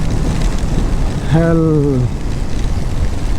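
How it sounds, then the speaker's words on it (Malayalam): Heavy rain on a night motorcycle ride on a Munnar road in Kerala, heard as a loud, dense, steady roar of rain and wind noise, with someone speaking briefly over it. "ഓഹോ നല്ല മഴ."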